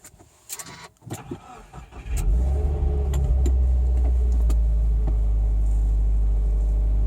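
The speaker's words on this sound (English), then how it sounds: "let's get this car started" A 2015 Subaru WRX engine cranks and catches after a couple of seconds of quiet interior shuffling, then settles into a loud, steady idle close by.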